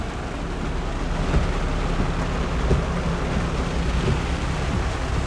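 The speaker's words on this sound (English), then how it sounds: "it's a shame that it's raining" Steady rain pours down in a dense, even hiss during a road trip drive in Uganda, loud and continuous with no voices.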